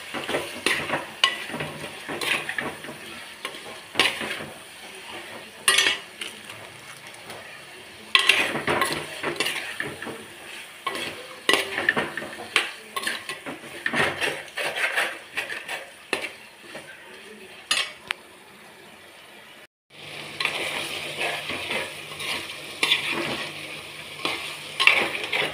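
Chicken gravy being stirred and mixed in a pan, with repeated scraping and clinking of a spoon against the metal over a low sizzle, steady and close, pausing briefly near the end before resuming.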